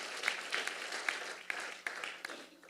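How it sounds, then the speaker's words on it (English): An audience applauding Cal State Long Beach at a university event, a moderate, fairly distant patter of clapping with a few sharper claps standing out, then slowly fading. "let's give Cal State Long Beach a big round of applause for their incredible work doing this"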